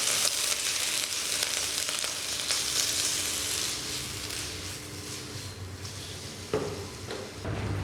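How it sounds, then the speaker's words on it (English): Capsicum sizzles steadily in a hot pan in a cafe kitchen while being stirred, a continuous bright frying hiss with a few soft scrapes and knocks near the end. "I'll add the capsicum, and we'll just give it a quick stir."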